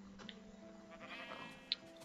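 Minecraft sheep bleat faintly in the game amid a soft tonal background hum, with one short, sharper bleat standing out near the end.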